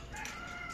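A white hen makes a brief, close vocal cluck over faint background noise, alone and without speech.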